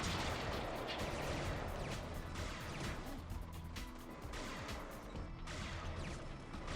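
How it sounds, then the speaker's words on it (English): Tank cannon blasts and gunfire in the Spyro Enter the Dragonfly video game ring out as continuous, dense, loud explosive bursts with rumbling booms throughout. "let's go to first person and just shoot these guys real quick"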